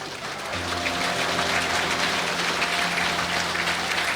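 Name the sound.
church congregation applause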